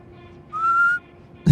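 A single steady whistle in the winter survival video game Hungerwinter, a clear sustained pitch held for about half a second over a quiet background, then a brief louder knock at the end.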